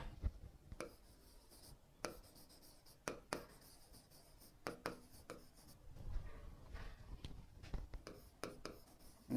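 A pen scratches answers onto paper in short strokes and taps, close and quiet, with irregular pauses and a soft whisper in between.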